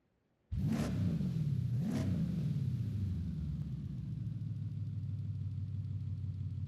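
In Forza Horizon 5, a 1995 Ford Mustang SVT Cobra R exhaust starts up abruptly, gives two quick revs, then settles into a steady, deep, loud idle rumble.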